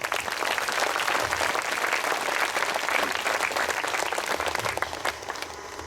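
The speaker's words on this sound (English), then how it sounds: "Let us give a big clap for Kartal." A large audience claps together at a Buddha Poornima celebration, a dense, continuous patter of many hands that holds strong and eases slightly near the end.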